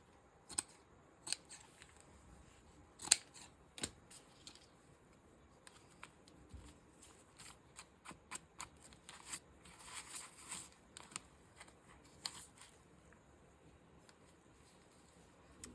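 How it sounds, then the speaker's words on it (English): Scissors snip through paper while a journal topper is being made, scattered crisp cuts and small rustles at close range, some clustered quickly together, others spaced out with quiet pauses between. "let me see what happens when I cut this"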